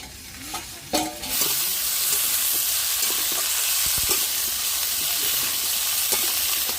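Mango pieces for a sweet, sour and spicy pickle cooked in a pan over a home stove: a steady, close sizzle and hiss with occasional stirring scrapes.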